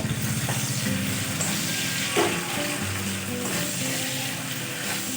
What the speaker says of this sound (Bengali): টমেটোটা দিয়ে আমি একটুখানি ভেজে নেব।